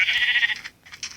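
A sheep in a video game lets out a clear, close bleat followed by a shorter second bleat after a brief pause, with no talking over it.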